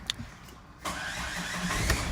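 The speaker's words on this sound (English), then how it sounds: "I'll just show you what it's like now when it starts. It's like a different car." A car engine, just fitted with a repaired starter, cranks briefly and catches, then settles into a steady idle, close and fairly loud with no talking.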